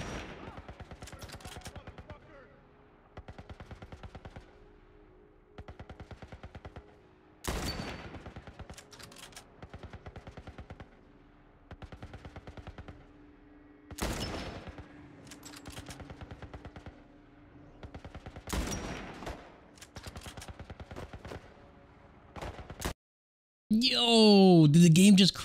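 Gunfire aimed at a tank in The Last of Us, repeated bursts of shots over a steady rumbling game soundscape, with a louder clash of noise near the end.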